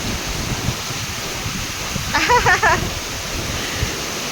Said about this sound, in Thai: ฝนมากระหน่ำแบบอย่างแรงมากเลย